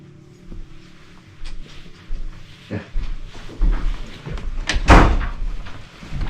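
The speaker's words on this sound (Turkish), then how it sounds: "Kapı da üstümüze kapandı." A door bangs shut once inside a house during a late-night paranormal investigation: one sharp, fairly loud close stands out against the faint shuffling and creaks of the room.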